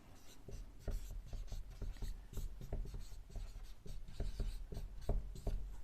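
Chalk or a marker taps and scratches across a board in quick, uneven strokes during a Hindi grammar lesson, a fairly faint and close rhythm of short strikes heard alone.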